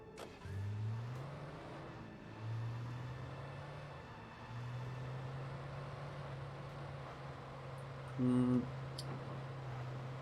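A car in the video game Alan Wake drives steadily with a continuous low engine drone, rising briefly a few times as it accelerates, then holding an even hum throughout.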